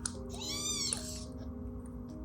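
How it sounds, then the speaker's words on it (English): A single thin, high-pitched mew from a newborn British Shorthair kitten, brief and close, over a low steady hum. "It felt like a miracle to hear her kitten first meows."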